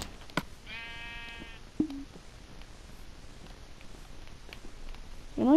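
A Minecraft sheep lets out a short, wavering synthetic bleat, then a second brief bleat, over a quiet game background with a few soft clicks and a rising sound at the very end.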